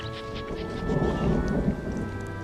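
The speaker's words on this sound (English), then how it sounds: "There's a storm front coming in." Thunderstorm with a low rolling rumble of thunder over steady rain, the rumble swelling midway through and then easing back, with a faint hum running underneath.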